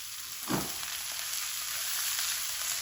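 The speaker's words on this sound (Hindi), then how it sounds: "अब इनको उतनी देर हम फ्राई करेंगे कि प्याज भी थोड़े के प्याज की भी शक्ल बदल जाए।" Bitter gourd and onions fry in a pan with a steady, hissing sizzle. One low clatter of a utensil lands early, and then the frying runs on evenly at a moderate level with no talking.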